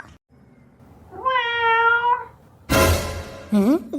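A cartoon cat gives a long, clear meow, followed by a burst of noisy sound and a short, higher second meow.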